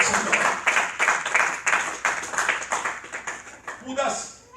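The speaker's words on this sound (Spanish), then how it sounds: "¿Habrá alguien que le pueda dar ese aplauso al Señor?" Church congregation clapping in a rhythmic, pulsing pattern, loud and close, with a voice speaking over it toward the end.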